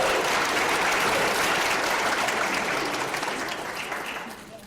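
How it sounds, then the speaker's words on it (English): A crowd at an advocacy day event applauds steadily, a dense wash of clapping that slowly fades toward the end. "give them an applause real quick for working"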